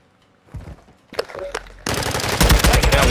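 Video game gunfire starts with a few scattered shots and then becomes loud, rapid automatic bursts that fill the second half, with a voice briefly heard among them.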